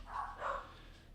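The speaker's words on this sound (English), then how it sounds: "There's like 6 dogs just going nutty right now" Several dogs bark two or three times somewhere in the background, faint and muffled, with no talking during the brief burst.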